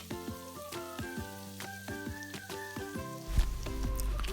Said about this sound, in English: I'm frying this on medium heat.